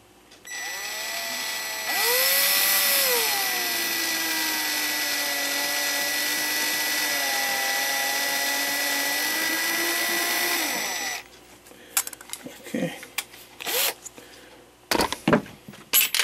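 A broach or small lathe tool runs steadily for about nine seconds while opening a bushing hole in a Regula 25 clock movement, a loud whining motor tone that rises and bends in pitch, then stops, leaving quiet handling clicks.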